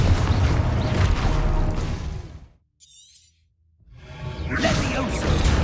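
The Expulso blasting spell in Hogwarts Legacy sets off a loud, close crash and shattering burst, dies to near silence with a faint high chime, then swells into a rumbling explosion again.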